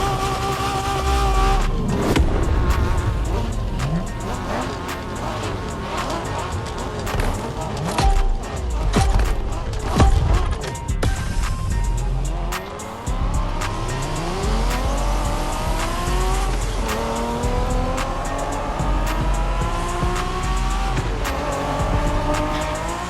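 Video game cars in The Crew Motorfest on a Japanese street race, engines revving and rising through gears, with tire squeals and repeated upward pitch sweeps as they accelerate, loud and continuous.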